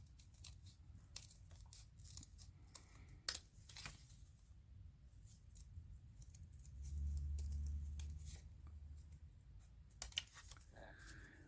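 Small curved scissors snip through paper for an art journal stencil, a series of close, crisp clicks and cuts over a soft rustling background, with a short low rumble midway.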